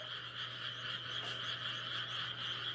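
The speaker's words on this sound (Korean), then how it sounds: "곤충 소리, 매미 소리만 들리죠?" A dense, continuous chorus of insects or frogs trills steadily in the countryside of the inter-Korean border area, loud and unbroken throughout with a faint low hum beneath and no voices.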